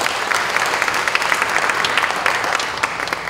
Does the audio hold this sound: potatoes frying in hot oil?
no